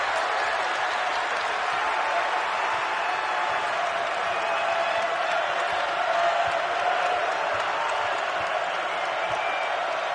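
Crowd in a college basketball arena, Texas against Houston, keeps up a steady, dense roar of applause and cheering for about ten seconds, broad and continuous with no clear individual voices.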